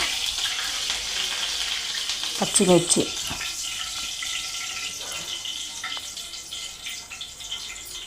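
Green chilies fry in hot oil for a crispy sabudana and poha chivda, giving a steady close sizzle and hiss throughout, with a brief voice murmuring partway through.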